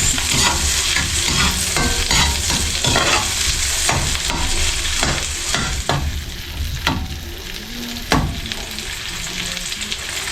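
Onion sautéing in a pan, lightly browning, with a steady close sizzle of frying throughout and repeated scraping stir strokes over it, no one speaking.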